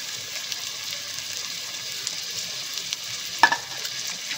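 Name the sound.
adding roasted cashews and shallow-fried onion to paneer pulao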